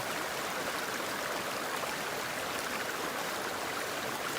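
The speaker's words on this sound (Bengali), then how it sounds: "চালগুলো সুন্দর করে ধুয়েছে" Water pours and splashes steadily while rice is rinsed in a pot, a constant, fairly soft rushing wash with no voices.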